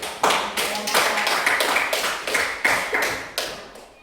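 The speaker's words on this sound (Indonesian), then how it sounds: "Kita kasih aplaus dulu." An audience claps at a group presentation, a series of sharp, bright bursts of hand claps at close range that start and stop unevenly across the clip.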